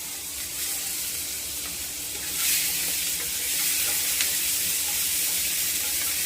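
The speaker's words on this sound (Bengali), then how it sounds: "দেখুন পেঁয়াজগুলো একটু ভাজা ভাজা হয়ে গিয়েছে।" Chopped onions and green chillies fry in a pan for a Bengali katla fish mustard curry, giving a steady close sizzle with occasional stirring scrapes and no talk.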